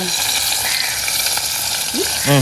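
Karal fish frying in oil in a pan on a home stove, a steady close sizzle that holds throughout, with a short voice sound near the end.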